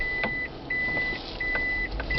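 A taxi's reverse-gear warning sounds as a steady series of high electronic beeps, about one every three-quarters of a second, over low engine and cabin rumble at moderate volume.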